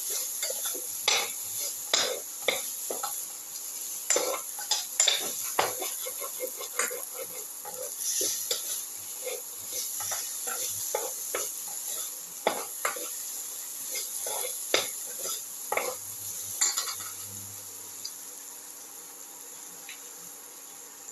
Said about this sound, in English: Salt the potato pieces. Keep on sauteing.